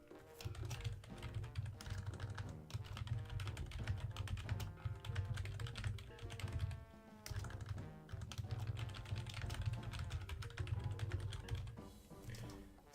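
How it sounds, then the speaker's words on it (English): Rapid clicking on a computer keyboard, continuous and fairly close, running beneath loud, dense game music with a brief lull near the middle. "Just kind of doing some preemptive typing."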